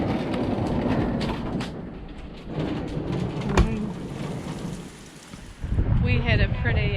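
Hail and rain come down hard during a thunderstorm, drumming on a house truck in a dense, steady hiss with sharp impacts, easing briefly and then swelling again near the end.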